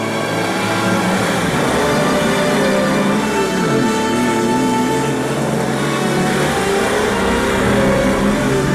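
A Dakar rally car engine revs and accelerates hard, a loud, close mid-pitched roar that rises and falls in continuous surges, with no voices over it.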